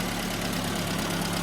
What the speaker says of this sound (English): Engine's running currently.